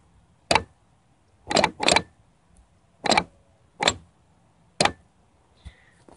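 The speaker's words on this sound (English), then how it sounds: "That's activating just the motor, and it won't turn." An 89 Cherokee starter jumped directly, its motor clicking in six or seven short, sharp bursts spaced about a second apart, with near silence between and no cranking.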